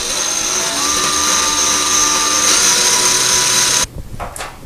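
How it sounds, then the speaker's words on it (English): A power drill fitted with a 3/16 bit bores slowly into a tile wall, a steady high-pitched whine for several seconds that stops abruptly and is followed by a few faint scraping sounds. "now we're going to drill that one right there very, very slowly"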